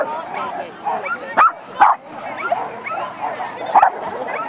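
A dog at a Finnish agility competition gives several sharp barks, close and loud, under steady Finnish commentary and crowd noise.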